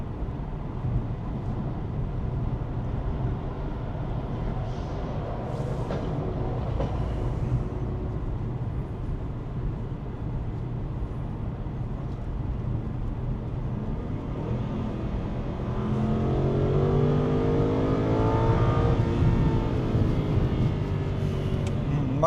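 Inside an Aston Martin Vantage S V8 convertible cruising near 100 km/h, a broad steady road and wind roar fills the cabin, and the engine note rises and strengthens as the car accelerates toward the end.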